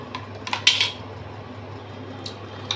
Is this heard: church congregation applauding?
no